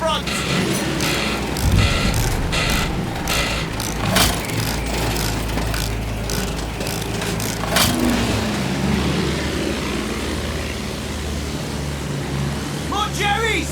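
A vehicle engine in the video game Battlefield 1 revs and drones continuously, loud and close, with rattling mechanical noise and bursts of louder throttle over the rumble.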